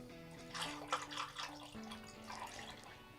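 Water running from a tap into an electric double boiler wax melter as it is topped up, a soft continuous splashing and trickling with a faint mechanical hum beneath.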